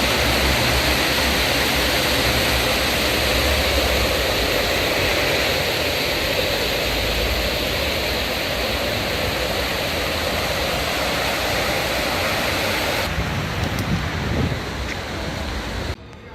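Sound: Manavgat waterfall, Turkey

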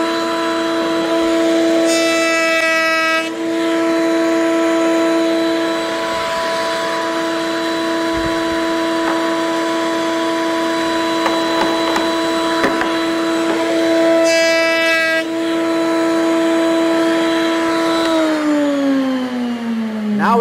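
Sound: wood router cutting a round dowel

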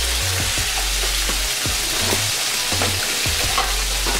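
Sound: chicken breast frying in butter

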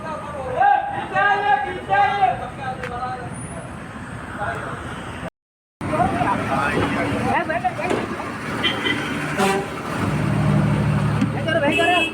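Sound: bus reversing onto a road

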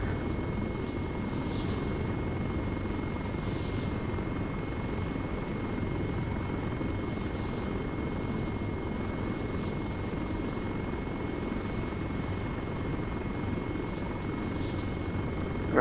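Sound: helicopter flying in video game Arma 3

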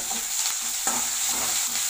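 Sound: onions and curry leaves sautéing in oil

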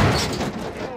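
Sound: gunshot from the video game Half-Life 2

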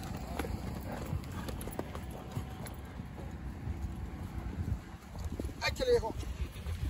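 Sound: horse hooves clip-clopping during a horse race

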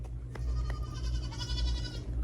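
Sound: sheep bleating

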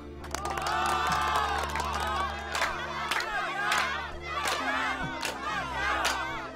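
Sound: crowd cheering

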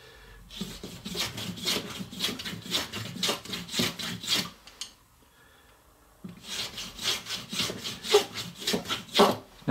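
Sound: hand-tapering a wooden chopstick to an octagon point

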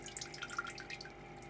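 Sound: water dripping through tubing

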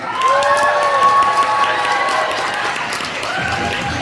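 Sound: audience applause for children's performance

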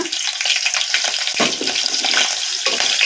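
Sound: green chillies frying in hot oil

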